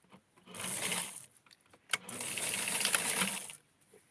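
Sewing machine stitching flare sleeves of a stretchy bathing-suit-like doll dress, two close whirring runs split by a brief pause and a click, moderately quiet.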